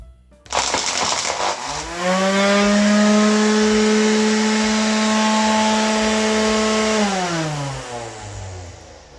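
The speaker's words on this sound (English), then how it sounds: "So when I push the trigger, the trimmer will start trimming. Let's hear how it sounds." A Gardena Turbotrimmer SmallCut 300/23 electric grass trimmer switches on, winds up and holds a steady, loud motor whine for several seconds before starting to spin down, with no talking.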